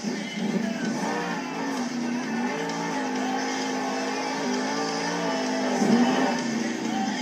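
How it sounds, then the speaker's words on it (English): A monster truck engine roars loudly and continuously as the truck pulls a massive sky wheelie off a step-up ramp at a Monster Jam stadium event in Arlington, Texas, the sustained drone swelling briefly near the end over stadium ambience. "massive sky wheelie off of the step-up ramp"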